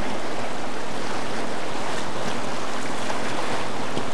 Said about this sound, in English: Rapids aren't too bad. This is the first set of rapids.